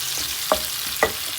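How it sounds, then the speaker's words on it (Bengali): Five-spice mix frying in a pan, a close steady sizzle punctuated by two sharp stirring clinks, no talk. "এটা একটু ভাজা ভাজা হয়ে নেয় হালকা করে"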